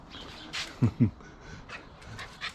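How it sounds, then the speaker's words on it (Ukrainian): A red-coated dog pants quietly with a couple of louder breathy bursts near the middle, close by, over faint background noise. "Живе з нами дружок. Рудий пес."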